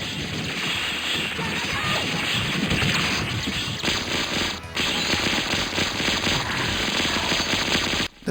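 An arcade shooter video game blasts away with rapid machine-gun bursts, crashes and explosions in a dense, continuous barrage that fills the whole stretch, with a brief dip near the middle and no voices.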